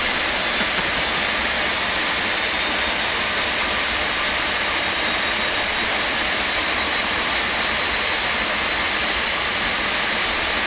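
Boeing 747 jet engine in X-Plane 12 spinning up to a loud, steady roar with a sustained high whine, continuous and unbroken throughout, with no talk over it.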